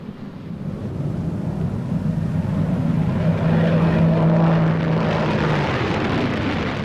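An early jet-powered aircraft engine sounds as a steady, loud roar with a droning tone that builds and holds for several seconds, then eases slightly.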